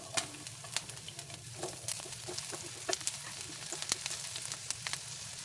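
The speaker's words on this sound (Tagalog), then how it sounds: "Gisahin na natin ang luya. Igisa na rin natin ang sibuyas." Ginger and onion sautéing in oil in a non-stick pan, a steady close sizzle with crackling pops and the scrape of stirring throughout.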